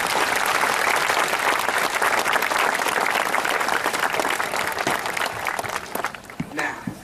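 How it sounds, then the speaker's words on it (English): Sustained round of applause from a large audience at a high school class of 2018 graduation ceremony, loud and dense throughout before thinning slightly toward the end. "Please give all staff a round of applause."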